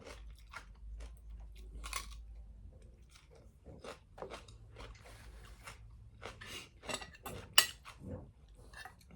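Close, crisp crunching bites and chewing, several sharp crackly crunches in irregular succession with faint clinks of utensils.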